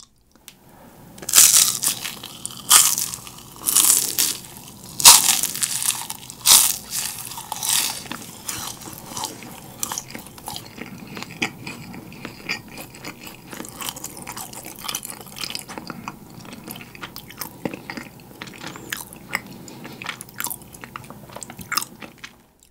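Korean fried rice snack yugwa being chewed up close, with loud, dense, crackling crunches in quick bursts that gradually soften into quieter munching.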